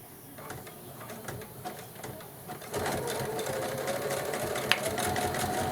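A sewing machine zigzag stitching runs in a rapid rhythmic whir, speeding up and growing louder midway, close by and continuous.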